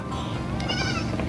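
A goat bleats in a drawn-out, wavering cry close by, heard amid steady background noise during a road trip with goats dressed in pajamas.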